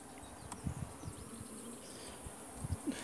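Honey bees buzzing at a weak hive, a faint continuous hum with a few soft close thumps and bumps as the colony is handled.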